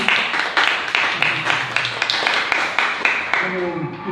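A church congregation claps together in a rhythmic, pulsing pattern, with regular beats roughly every half second, steady and fairly close, with voices and a musical tone emerging near the end.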